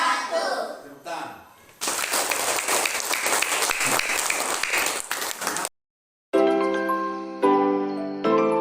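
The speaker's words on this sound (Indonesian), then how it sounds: "Tepuk tangan." Classroom applause at the close of a school lesson, a burst of clapping running for several seconds after a brief voice, then a sudden silence followed by bright chiming jingle tones.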